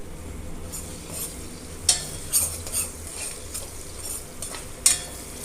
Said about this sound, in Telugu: ఆవాలు జీలకర్ర ఒక ఉల్లిపాయ కట్ చేసి వేసాను రెండు పచ్చిమిరపకాయలు కరివేపాకు వేసానండి